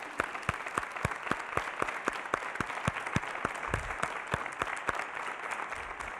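Audience applause at a college State of the College address, a rhythmic steady clapping that sounds somewhat distant and moderately faint, with no talk over it.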